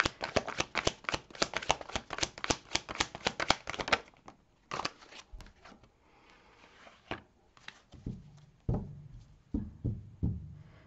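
Tarot cards being shuffled in rapid riffling bursts, then single cards drawn and laid down with soft slaps and rustles, close and clear with no talking.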